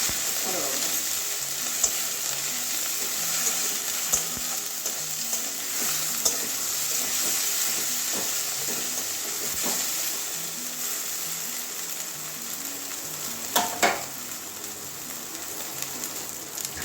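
Garlic and turmeric frying in oil, a dense steady sizzle with scattered crackles and occasional spoon scrapes as it is stirred, close and continuous with no talk.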